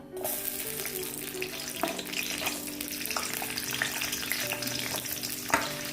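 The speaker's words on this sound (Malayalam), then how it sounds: "നമുക്ക് ഈ മുളക് മുളക് അങ്ങോട്ട് ഇട്ട് കൊടുക്കാം മുളകും പിന്നെ ഉള്ളി ചെറിയുള്ളി തന്നെ എടുക്കണം" Red chillies and shallots sizzle steadily in a pan as they are stirred, with a constant frying hiss broken by a few scraping clinks.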